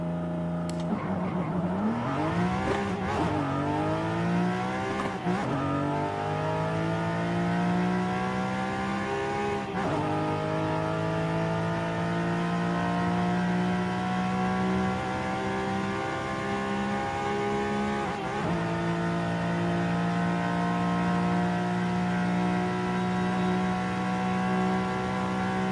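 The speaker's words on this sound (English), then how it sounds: "I'm gonna launch this car and we're gonna do a top speed run." A car launching into a top speed run in the racing game Forza Horizon 5, engine tone climbing again and again through gear changes into a long sustained high rev, a steady loud drone with no talk over it.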